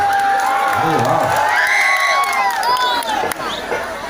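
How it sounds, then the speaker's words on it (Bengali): A large outdoor crowd at a live stage night at the Nachinda Chandan fair claps and cheers with whoops and shouts, loud and continuous, with a host's voice carrying over the noise. "একটু জোরে হাততালি হোক আপনাদের পক্ষ থেকে সবাই মিলে"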